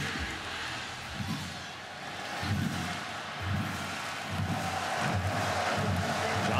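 A sellout crowd of about 90,000 at a college football game in Florida's stadium, the Swamp, sends up a steady roar, swelling in rhythmic waves as if chanting, with no clear voices standing out.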